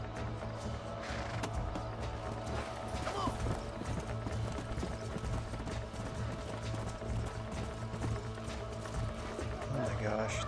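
Horse hooves galloping in the Red Dead Redemption video game, a steady rapid clip-clop running under game sounds and a talking player across the whole stretch.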